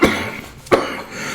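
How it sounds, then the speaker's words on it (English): A man coughs twice, briefly and close, with a short pause between the two bursts and no talk. "sorry about that cough and everything, like coughing and all"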